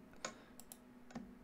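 Computer mouse clicks during work in the TrackMania Mesh Modeler, a few faint, sharp, isolated clicks against a quiet background hum.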